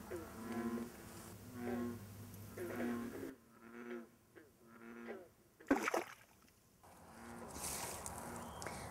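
Bullfrogs and green frogs call on a warm night beside a pond, giving a run of deep, repeated croaking notes at moderate distance, with a brief splash near the middle and quieter pauses between bursts.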